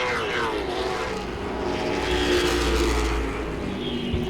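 Late model race cars roar around Langley Speedway in a continuous, fairly distant engine drone, pitch sweeping as cars pass and swell louder midway, with no voices over it.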